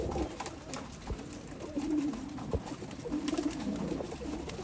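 Pigeons of an old line breed kept for sale in Bangalore, giving repeated soft low cooing phrases, close by over a background of faint clicks and shuffling.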